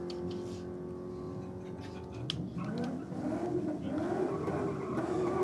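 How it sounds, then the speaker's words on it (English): Barra Commodore cars doing burnouts at a motorsport event: an engine idles, then revs and climbs in pitch, growing louder and sustained at a moderate distance. "Barra Commodores in the burnouts here"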